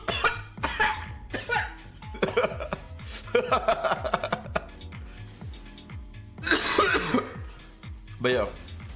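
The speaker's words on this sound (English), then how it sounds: "Why is it so funny when I cough?" Repeated coughing from a man during a gaming stream, in short bursts mixed with chuckling and laughter, with other voices talking in the background.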